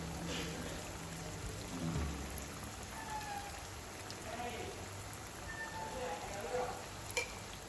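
Thean mittayi sweet balls deep frying in oil make a faint, continuous fine crackle and bubbling, even and low in level throughout with only small flickers of spatter.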